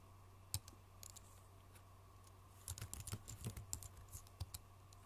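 Password typed on a computer keyboard, quiet close-up key clicks: a few isolated taps, then a quick burst of rapid keystrokes and a couple of final presses, with no talking.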